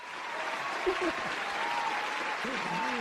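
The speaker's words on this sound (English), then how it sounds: "Applause for that." Soft, continuous applause washes in at moderate distance, with a few voices briefly rising above the clapping.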